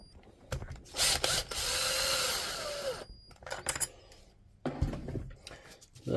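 A screw being driven into the body of a DeWalt DCH273 rotary hammer: a power screwdriver whirs in short bursts and one longer run, separated by ratcheting clicks and handling clatter.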